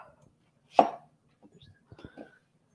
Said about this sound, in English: First, I'm going to just cut up my onions.